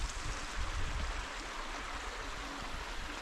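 The Kilkeel River in the Mourne Mountains flowing steadily nearby, a constant broadband rush and gurgle with no pauses and no voices.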